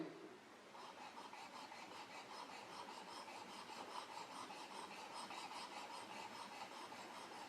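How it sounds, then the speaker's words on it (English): A chisel being sharpened on a sharpening stone makes a continuous rasping scrape with a fast back-and-forth rhythm, faint and alone. "Just work your way down the stone."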